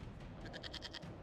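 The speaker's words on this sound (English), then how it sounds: "we discovered this man attacking the building with a goat." A goat in the Dragon Age Inquisition video game gives a single wavering, tremulous bleat that pulses rapidly through its second half, moderately loud over a low, steady rumble of game ambience.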